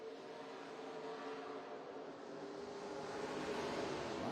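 Stock cars in an ARCA race at Nashville Fairgrounds Speedway roar continuously, several engines droning and whining together, swelling louder toward the end as cars pass close by, with no talk.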